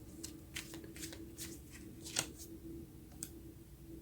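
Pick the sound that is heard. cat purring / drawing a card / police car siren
drawing a card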